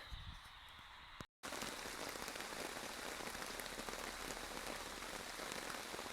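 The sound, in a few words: heavy rain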